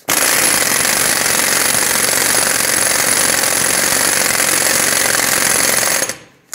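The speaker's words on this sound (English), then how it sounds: "I'm going to bottom this out with my air gun" Pneumatic air impact gun hammers an axle nut on a 2007–2014 Chevrolet Silverado 2500 HD front hub, one loud continuous rattling burst of about six seconds that cuts off abruptly.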